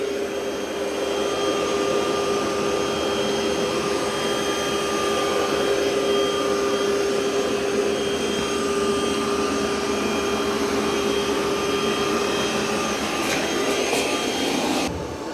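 A Roborock Qrevo Curv robot vacuum works over carpet with a steady, loud, continuous motor whine and suction hiss. The sound stays constant from start to finish and cuts off at the very end, with no voices.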